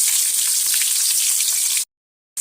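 Onions frying in hot oil in a pan with cumin, curry leaves and garlic for mango chutney: a steady, close hiss and sizzle with soft crackles that cuts off abruptly near the end.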